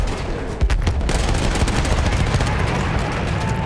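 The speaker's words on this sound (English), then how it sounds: "this is similar to this machine gun that's mounted" A mounted machine gun in the Battlefield game fires rapid, loud bursts of gunshots, a dense continuous rattle that runs throughout at close range.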